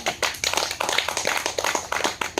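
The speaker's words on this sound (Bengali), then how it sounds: "সবাই একটা তালিয়া মারবেন" An audience at a village challenge-game prize giving claps in a short burst of scattered, uneven handclaps, moderately close, with no voices over them.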